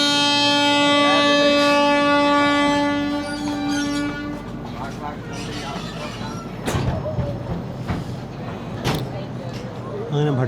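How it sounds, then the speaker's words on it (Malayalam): Marusagar Express (12978) pulling out of Bhatkal station: a loud sustained train horn with harmonic tones opens, then rolling rail and carriage noise continues with sharp clanks, steady and close. "അങ്ങനെ ഭട്കൽ സ്റ്റേഷനിൽ പുറപ്പെടുകയായി."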